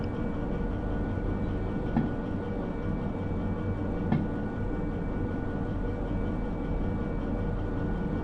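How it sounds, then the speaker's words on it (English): Train brakes grinding in the railway simulator Derail Valley on a heavily loaded freight train, heard as a steady low rumble and hiss running throughout, with faint squeal-like streaks and two brief clunks. "I hear brakes, so we definitely hit it."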